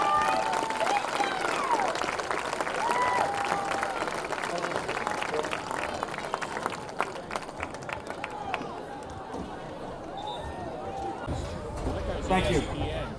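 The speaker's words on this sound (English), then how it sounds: "Let's have a big round of applause for all of our seniors tonight." Crowd applauding seniors at a high school game night, broad clapping and cheering in a gym, mixed with announcer-style talk and crowd noise, fading somewhat toward the end.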